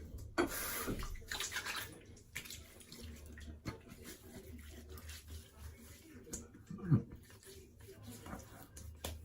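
Water splashes briefly while rinsing an injector razor between shaving passes, with a short loud gush near the start and a smaller splash later, otherwise quiet bathroom ambience.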